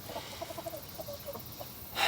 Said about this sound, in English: So we put the broody hen in the new coop, or the new tractor.